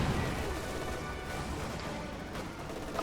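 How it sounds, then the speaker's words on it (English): A strafing run in Company of Heroes 2 unleashes a dense, continuous roar of gunfire and explosions, loud and busy across the whole short stretch. "there's a strafing run"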